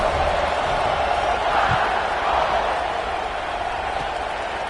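A stadium crowd in a football video game roars in a steady, broad wash of cheering that holds throughout, with no clear break or standout voice.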